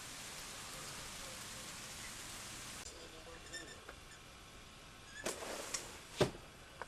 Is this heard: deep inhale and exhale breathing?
no